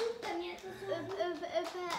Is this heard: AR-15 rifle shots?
no